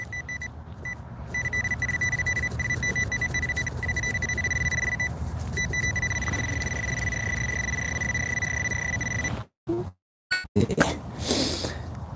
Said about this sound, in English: Okay, crackly noises here. Hear that crackly noise?